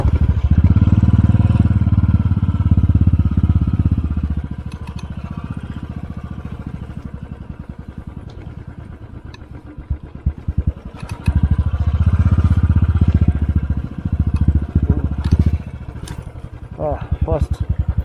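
A motorcycle ridden slowly over ice on a high mountain road near Gurudongmar Lake, its engine revving and idling in uneven bursts with clattering and crunching, someone talking over it at times.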